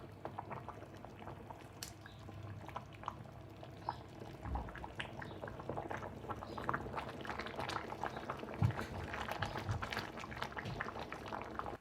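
Rice simmers in bubbling beef broth for Afghan Kabuli pulao, giving a steady, quiet boiling and gurgling with faint pops and drips throughout, close by and with no talking.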